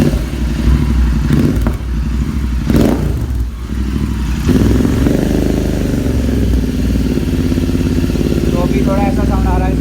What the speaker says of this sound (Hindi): तो अभी थोड़ा ऐसा साउंड आ रहा है इसका बाइक का।